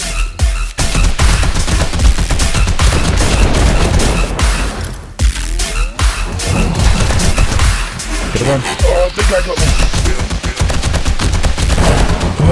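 Rapid, loud bursts of gunfire in the survival video game 7 Days to Die (Darkness Falls mod) during a fight with a Titan, with dense repeated shots and booming impacts and a voice speaking briefly.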